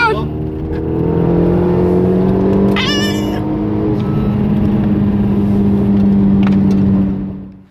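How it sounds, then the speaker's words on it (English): A Renault Megane RS engine drones loudly and steadily throughout a fast ride, with a brief high whine partway through and the sound cutting off at the end. "So that was some very nice ride we just had in this Renault Megane RS, driven by our pilot, ice cold Moritz."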